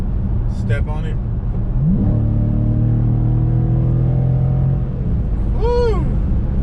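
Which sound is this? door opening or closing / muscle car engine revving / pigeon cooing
muscle car engine revving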